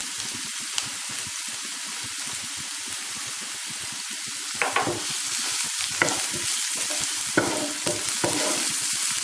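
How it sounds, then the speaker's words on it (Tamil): Onions sautéing in a pan for bread upma, a steady bright sizzle with repeated scraping stirs of a spoon that grow more frequent toward the end. "இப்போ வெங்காயம் வதங்கிடுச்சு"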